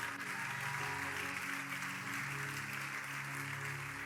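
A church congregation applauding during a sermon on the birth of Jesus, with steady sustained clapping at a distance and a sustained musical tone underneath.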